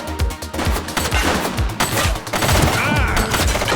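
Rapid bursts of gunfire from a shooter in the 2025 video game The Precinct, dense overlapping shots with loud thuds and crackling reports filling the whole stretch.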